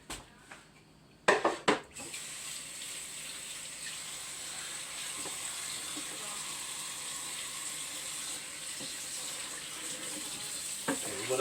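Water runs from a kitchen tap in a steady rushing stream while chicken caldo is being prepared, preceded by a few brief clatters of kitchen handling, moderately loud and close.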